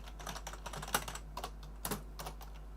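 Faint, close keyboard typing in irregular bursts of soft clicks, with a few sharper keystrokes standing out over a constant low electrical hum.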